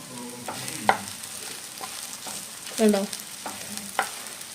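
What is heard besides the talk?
stirring okra stir fry frying in a pan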